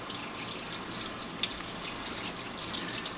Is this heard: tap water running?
yes